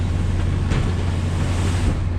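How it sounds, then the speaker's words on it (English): Strong offshore wind of around 30 knots buffets a sailboat in three-foot seas, a steady loud roar of wind noise and rushing water with low rumble throughout, no talking. "the wind has been blowing as high as mid-30s. I saw it at 34 knots."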